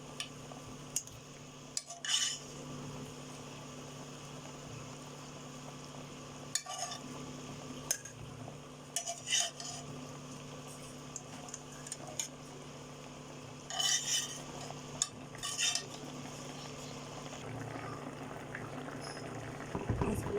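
Fish stirred and cooked in a pan on a home stove: a low steady simmer-sizzle under intermittent spoon clinks and scrapes against the pan, close and quiet, with no talk.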